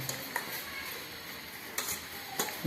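Cooked ingredients for lemon leaf rasam are mashed in a vessel: soft, faint scraping and squelching with a few sharp utensil clinks against the pot at irregular moments.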